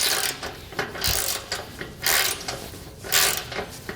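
Trailer bolts and nuts tightened with a ratchet wrench: rapid, close clicking of the pawl in repeated bursts, each a quick run of ratcheting strokes separated by short pauses.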